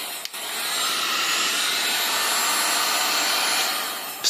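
Black&Decker KX1650 corded heat gun running steadily on its second power setting, a loud, even blowing roar with a hiss that holds for several seconds after a brief click at the start, no voices over it.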